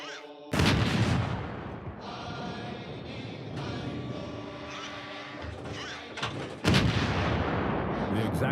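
Heavy booming coastal bunker artillery cannon fire from D-Day Normandy 1944, two loud, sharp blasts separated by a sustained rumbling barrage, echoing and dense throughout.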